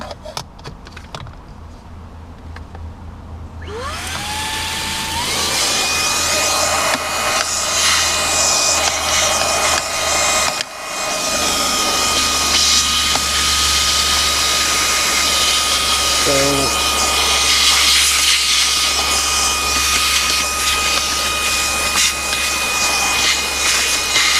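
A Fanttik V10 Apex cordless car vacuum spins up with a rising whine and runs steadily and loudly while cleaning debris from a car cup holder, with brief scraping and rattling as it works.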